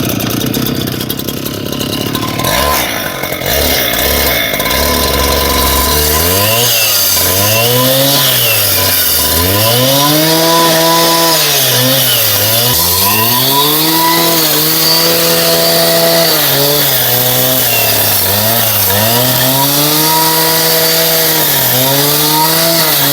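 A Stihl cut-off saw slices through stone, its engine droning loud and close, then repeatedly bogging down and climbing back up in pitch as the blade bites into the stone, with no voices.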